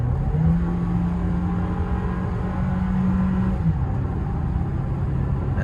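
A 2022 Toyota Tacoma SR pickup with the 2.7L engine accelerates to pass at highway speed, a steady in-cabin engine drone with low rumble and rising tonal whine, continuous and fairly loud with no talking.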